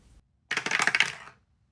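A handful of dice tumble and rattle across a hard surface in a quick burst of clicks lasting under a second, close and fairly loud, with quiet before and after.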